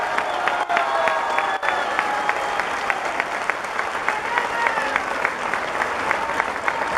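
Crowd applause at a national party congress rally for 35 deputies, dense and steady throughout with rhythmic clapping accents and a faint voice beneath.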